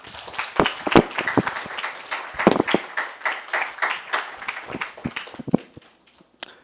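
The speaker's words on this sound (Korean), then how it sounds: "우리 박수로 환영해 주시기 바랍니다" Applause from a church congregation welcoming a guest lecturer, heard as scattered, uneven claps with distinct sharp hits rather than dense ovation, fading out near the end.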